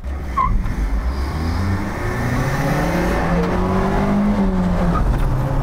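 A Lada Niva fitted with a 122 hp Vesta engine accelerates hard, its engine note rising steadily through the gear. It is loud and close, with a roaring drone, some wind noise and no speech.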